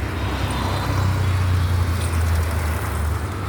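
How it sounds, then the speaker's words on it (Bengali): Steady road traffic of cars and motorbikes passing on a city street near a bus stand, a continuous low engine rumble with passing vehicles, close and fairly loud throughout. "দেখো কত গাড়ি বাইক যাচ্ছে।"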